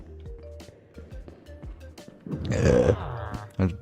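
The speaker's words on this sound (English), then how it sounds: "I just burped." A single drawn-out burp rumbles up near the microphone midway, deep and throaty, after a stretch of quiet low murmuring.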